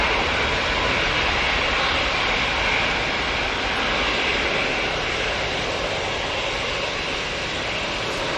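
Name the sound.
Aer Lingus propeller airliner departing Manchester Airport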